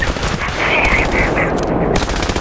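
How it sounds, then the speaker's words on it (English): Rapid machine gun bursts laying down suppressing fire in a VR shooter game, loud close rattling volleys with brief gaps between bursts, continuous and harsh throughout. "Huge suppressing fire."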